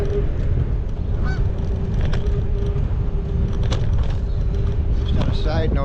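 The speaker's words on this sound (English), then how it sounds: "Followed by an angry seagull." Seagull calls out with repeated harsh, honking squawks over the steady whir and road noise of an e-bike ride through a city street, moderately distant.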